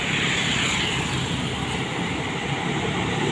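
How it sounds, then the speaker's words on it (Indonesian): A heavily loaded truck carrying sand or stone drones steadily and close while climbing a steep uphill road, a strained rumble with a broad roaring hiss, no talking. "Di belakang itu ada truk muatan berat bosku,"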